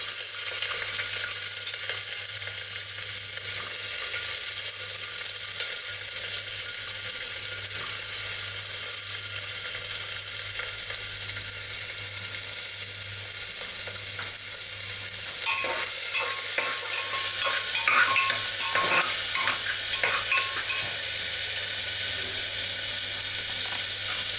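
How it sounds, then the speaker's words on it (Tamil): Sliced onions and green chillies frying in hot oil, a continuous bright sizzle and hiss with occasional stirring scrapes in the latter part, close and loud. "ஆயில் சூடாச்சு. அதில் வெங்காயமும் பச்சை மிளகாவும் போட்டுரும்."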